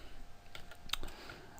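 Soft, quick clicks of typing on a computer keyboard, close and fairly quiet against a low hum while C++ code is written.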